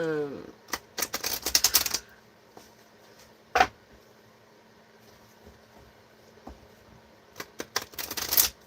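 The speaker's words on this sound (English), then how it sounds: "You guys see me shuffle these cards" Quick bursts of tarot cards being riffled and flicked, a few clustered at the start and end, with a sharp tap in the middle and soft room noise between.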